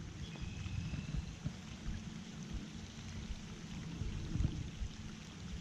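Steady rain patters at a pond during fishing, a continuous soft hiss with scattered drops and low rumbles throughout, with no talking.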